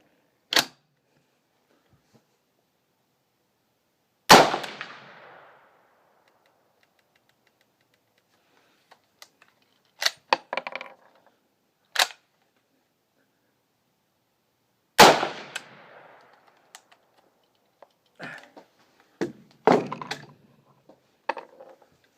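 A Winchester 1905 self-loading rifle firing .32 SL rounds, with several sharp, loud reports spaced seconds apart, each followed by a short decaying ring and the clack of the action cycling, heard alone.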